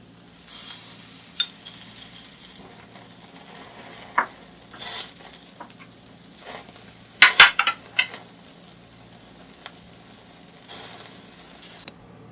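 Bihari kabab cooks on a grill with a soft, low sizzle, broken by scattered clinks and scrapes of utensils against the cookware, including a sharp cluster of taps midway.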